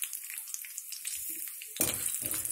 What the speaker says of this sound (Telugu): పోపు చుట్టుపక్కల ఆడుతుంది కదా, బాగా వేగుతుంది, పోపు వేగుతుంది